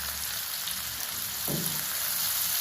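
Onions and green chillies frying in a pan for a village-style egg curry, a steady broad sizzle with a short stirring scrape partway through, close and continuous with no voices.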